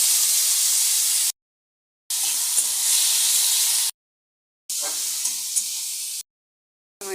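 Bottle gourd peel sizzles in hot oil with black cumin, a loud, bright, continuous frying hiss heard close up in three stretches separated by abrupt silent gaps.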